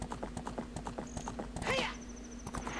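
Horse hooves clip-clop in a regular galloping rhythm in Zelda Ocarina of Time, close and steady, joined by a short chirping game sound effect and a sustained high tone.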